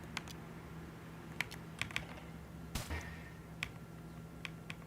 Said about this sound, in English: the key presses sound so nice